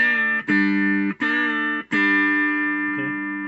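Electric guitar played with hybrid picking, two strings sounded together with a string bend, repeated as four ringing double-stop plucks, each sustaining clearly before the last slowly fades.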